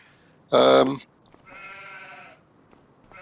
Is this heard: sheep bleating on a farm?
yes